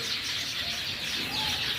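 White Java sparrows at a bird farm, a dense continuous chatter of many small birds chirping close by, with no talk over it.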